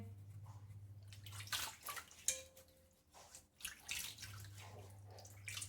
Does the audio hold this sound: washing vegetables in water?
yes